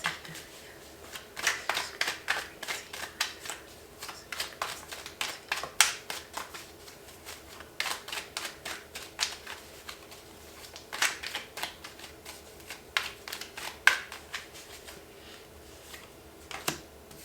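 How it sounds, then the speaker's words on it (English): A deck of tarot cards is shuffled by hand in repeated riffles and soft flicks, close and fairly quiet, with short pauses between bursts. "I just need to shuffle up the cards just a little bit"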